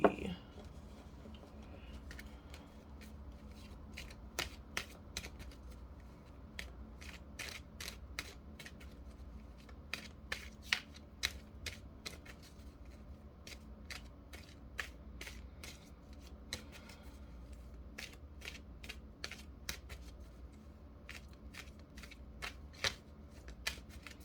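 Tarot cards are shuffled close up with soft, repeated sharp clicks and slides at an irregular rhythm, over a quiet low background hum.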